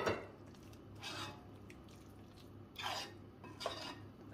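Thick sweet rice porridge spooned from a bowl onto the middle of a plate, a few soft scrapes and clinks of the spoon against dishware, faint and close.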